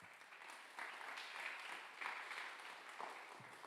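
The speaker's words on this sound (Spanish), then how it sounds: "Denle un aplauso al Señor." During a Sunday communion service, a congregation gives sustained applause to the Lord as a continuous wash of many hands clapping. It is quiet and distant and holds steady throughout.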